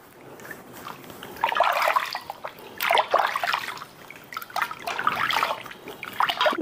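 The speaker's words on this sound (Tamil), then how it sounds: "இப்போ அம்மா வந்து இதை வந்து வாஷ் பண்ணுறேன்." Water splashes and trickles in irregular bursts as herbal bath powder is rinsed off a baby, with the sound of hands scrubbing nearby.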